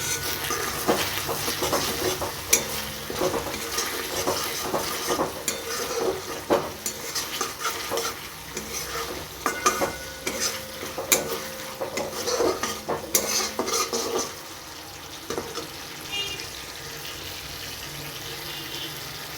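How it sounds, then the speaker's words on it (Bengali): Spice paste with tomato sauce, sugar sauce and oil being stir-fried in a pan, with steady sizzling and repeated scraping and clinking of a spoon against the pan throughout. "সেই জন্য আমি একটু আরও কষিয়ে নিচ্ছি মশলাটাকে"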